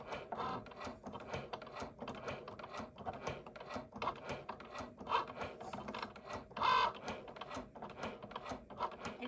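A Cricut cutting machine presses a foil tool into gift tags, making a quiet, steady run of small mechanical clicks and ticks with the carriage whirring beneath, and no one speaking.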